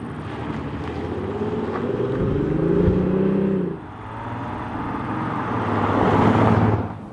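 An Audi S4 Avant driven briskly gives a steady engine drone with tonal rises and a dip as it shifts, road and wind noise around it, heard from inside the car without talk.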